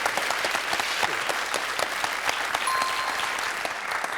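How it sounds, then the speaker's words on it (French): Studio audience applause on a French television quiz show, steady dense clapping heard alone throughout at moderate loudness. "Applaudissements pour Fanny."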